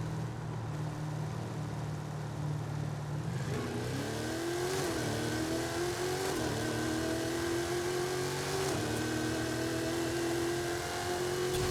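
Holden HQ Monaro with a 1500 hp 8.9-litre V8 in Forza Horizon 5, accelerating hard from a 40 roll start: steady idle drone, then a loud rising engine howl stepping up through several gear changes, continuous and close.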